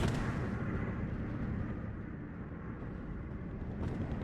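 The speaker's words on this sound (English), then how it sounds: "Artillery's doing a little damage" Continuous low rumble of distant artillery fire and battle noise in the Steel Division 2 WWII strategy game, a steady dull bombardment without sharp distinct blasts.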